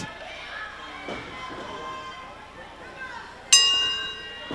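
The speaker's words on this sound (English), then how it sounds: "Bell sounds" A wrestling ring bell is struck once with a sharp, ringing clang that decays slowly, heard over crowd noise and arena ambience at a pro wrestling event, with commentators talking throughout.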